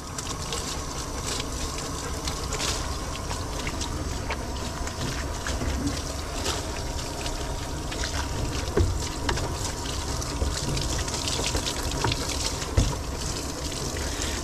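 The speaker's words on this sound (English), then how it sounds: "So the way this bathing system works is it is giving me continuous clean soapy water." A dog bathing system sprays a continuous stream of soapy water while a Bouvier is groomed, making a steady, close rushing hiss with small splashes throughout.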